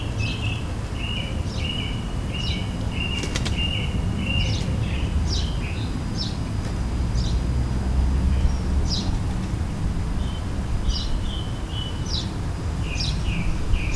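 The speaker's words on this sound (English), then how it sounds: "We can hear the song thrush singing in the background." A song thrush sings in the background of a garden feeding spot, repeated short bright phrases spaced every second or so, faint and distant over a low steady rumble.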